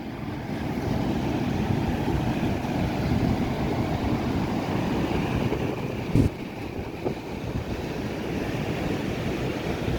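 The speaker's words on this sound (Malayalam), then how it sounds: "ഈ പോകുന്ന വെള്ളമാണ് അങ്ങോട്ട് പതഞ്ഞൊഴുകുന്നത്" Water at the Thooval waterfall foams and flows in a steady, broadband rush that stays constant throughout, close and moderately loud, with a brief bump near the middle.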